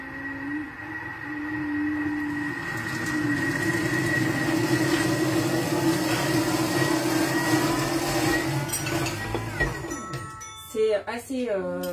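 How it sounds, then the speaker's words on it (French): A Thermomix food processor runs at speed 7, blending a steady loud whir that rises in pitch, then cuts out near the end to brief clattering; no talk over it. "Et 5 secondes vitesse 7 pour mixer le tout."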